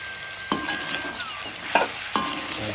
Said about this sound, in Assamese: তাৰপিছত লৰাই লওঁ ভালকৈ।